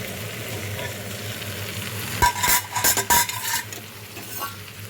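Malabar spinach stems fry in a pan with a steady low sizzle while a metal spoon stirs and scrapes in a few loud clattering strokes, then the pan settles back to sizzling on its own.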